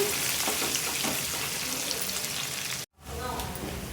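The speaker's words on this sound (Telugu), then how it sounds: "ఇలా వేసుకొని ఉల్లిపాయని బాగా ఫ్రై చేసుకోవాలి" Chopped onion fries in a pan of hot oil for a stuffed brinjal fry, giving a loud, steady, close sizzle that cuts out abruptly for a moment before resuming.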